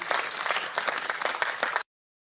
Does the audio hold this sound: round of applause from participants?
yes